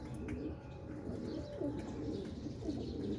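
An old teddy-type pigeon coos with low, soft repeated calls near the microphone, set against a steady hum of background noise and faint bird chirps.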